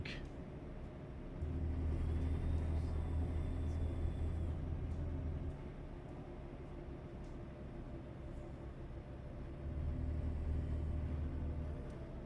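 Peterbilt truck in American Truck Simulator, its engine a steady low diesel drone while driving, swelling louder in two stretches, with a faint whistle-like tone early on.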